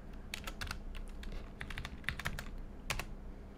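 Close, quiet keystrokes on a computer keyboard come in quick irregular bursts of clicks and taps, with brief pauses between runs and no talking.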